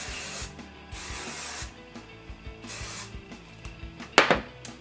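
Short hissing bursts of aerosol hairspray repeat in quick succession, interrupted by light handling clicks and a rattle near the end.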